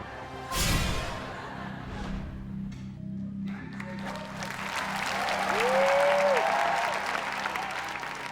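Loud, sustained applause from a large game-show studio audience swells and holds steady, with a bright tone rising briefly near the end.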